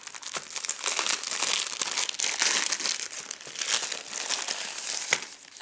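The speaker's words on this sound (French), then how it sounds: "C'est parti, je vais ouvrir le second magazine." Close, continuous crinkling and tearing of plastic wrapping as a Pokémon magazine package is opened, a dense crackle of sharp rustles lasting several seconds.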